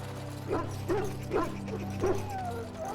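Hounds in Dragon Age: Origins give four or five short yips and barks at a steady pace, over a low hum of camp ambience, with a faint whine trailing after.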